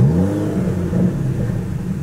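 A 715-horsepower Aston Martin twin-turbo V12 fires up, giving a loud, close, deep, gurgling engine rumble that holds steady through the brief moment.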